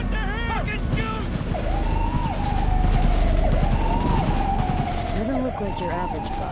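Video game street shootout with sustained gunfire crackling throughout, mixed with a wailing police siren and scattered shouting voices over a busy, loud scene.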